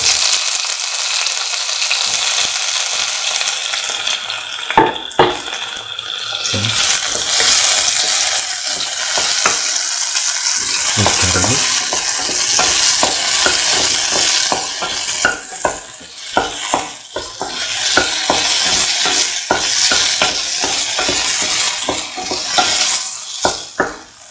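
Tomato pieces sizzle steadily in a hot pan while being stirred for a chickpea spinach stew, with frequent scraping and clinks of a utensil against the pot throughout; no talking.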